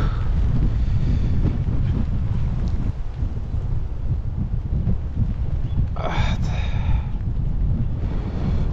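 Heavy low rumbling wind buffets the microphone continuously outdoors while fishing in light rain, with a brief breathy gust and a faint high whistle partway through.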